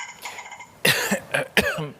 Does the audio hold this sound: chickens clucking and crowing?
no